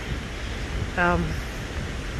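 Cumberland Falls in Kentucky pours with a steady, even rushing roar that fills the air from start to finish, broken briefly by a short spoken word in the middle.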